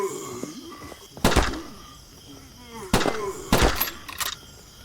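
Three sharp bursts of gunfire in the zombie shooter video game Resident Zombies, separated by pauses, the last a quick double shot, with a quiet electronic background.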